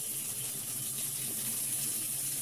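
Hot water runs steadily from a tap, rinsing a fish gripper clean without soap; a continuous, even hiss of flowing water, close by and alone with no voices.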